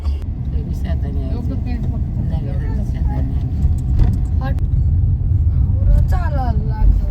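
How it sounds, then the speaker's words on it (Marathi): Heavy traffic on a ghat road, a continuous low rumble of engines and passing vehicles, with a few horn-like tones and people talking over it. "भरपूर ट्रॅफिक आहे"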